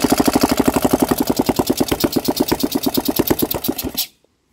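Salvaged Briggs small engine fires with the choke on and runs with a fast, rhythmic chugging beat, close and loud, then cuts off abruptly into silence near the end.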